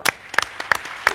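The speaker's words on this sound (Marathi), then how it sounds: "मी धन्यवाद देतो, टाळ्या वाजवा" Several separate hand claps ring out sharply at a kirtan for Sant Gajanan Maharaj's Pragat Din festival, spaced irregularly and close by.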